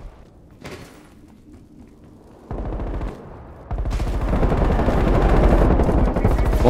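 Gunfire in Call of Duty: Black Ops Cold War competitive play: a few scattered shots at first, then a burst, then sustained rapid automatic fire growing louder and denser toward the end.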